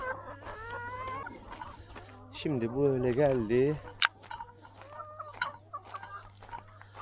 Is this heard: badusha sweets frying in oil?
no